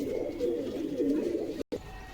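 Close, throaty cooing from a pair of sporting pigeons for sale, warbling steadily before a brief cut of silence and a faint return.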